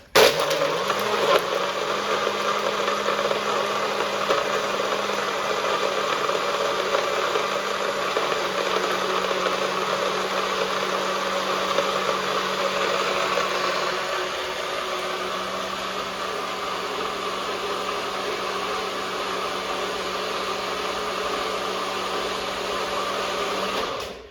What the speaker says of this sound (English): now I'm going to close my blender and blend it until smooth